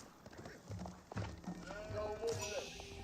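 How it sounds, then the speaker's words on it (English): Sheep bleat in the real-time strategy game Age of Empires 4, a short bleating call rising over quiet game sounds and faint background noise. "Sheep has been obtained."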